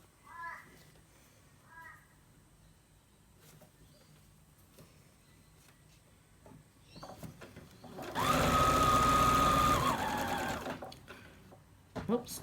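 A sewing machine stitches a fabric face mask in one loud, steady burst toward the end, going back and forth to anchor elastic, after quieter handling noises and light talk.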